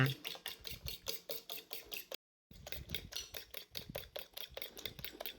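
Eggs being beaten for a Thai omelette, a fast regular clatter of utensil against bowl, close and loud, briefly stopping then resuming at the same brisk rhythm.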